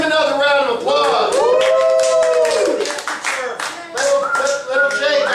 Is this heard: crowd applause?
yes